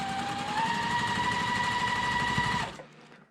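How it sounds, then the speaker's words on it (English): Sewing machine stitching pieces of a quilt block together, a steady close whirring run that stops abruptly near the end. "I'm just going to kind of hold it in place with my fingers as I sew"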